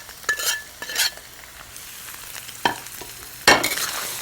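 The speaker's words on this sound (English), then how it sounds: "Gently saute it just for a minute until all the spices and the curd are mixed." Curd with turmeric and salt being sautéed in a pan, a soft sizzle under several sharp scrapes and knocks of a utensil against the pan, irregularly spaced and fairly close.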